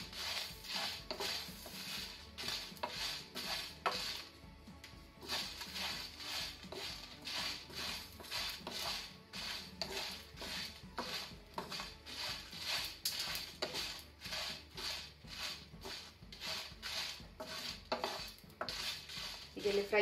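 Coriander seeds, cumin, cloves and fenugreek dry-fried in a pan with no oil, stirred with steady scraping and light rattling strokes that repeat in a fast rhythm, fairly close and quiet.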